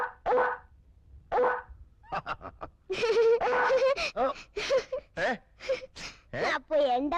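A man imitates a dog barking with his voice, giving two short gruff bark-like bursts before breaking into lively talk with others.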